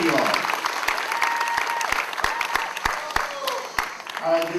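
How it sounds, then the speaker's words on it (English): A crowd applauds steadily at an outdoor July Fourth parade and awards program in Morgantown, West Virginia, with dense, sustained clapping marked by a few sharp louder claps, plus some talk mixed in underneath. "Give them both a great round of applause, because they're great entertainers"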